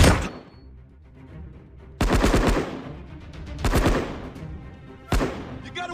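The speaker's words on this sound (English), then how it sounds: "I'm taking fire!" Bursts of automatic gunfire in the mobile shooter game CoverMe: three or four sharp, loud rapid-fire volleys separated by quieter gaps, each burst rattling for about half a second.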